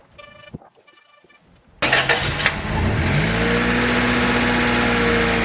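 An Acura Integra engine cranks and catches with a loud burst, revs briefly, then settles into a steady, even idle close by, with no talking.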